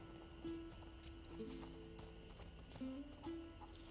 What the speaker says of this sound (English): Hi, horsey.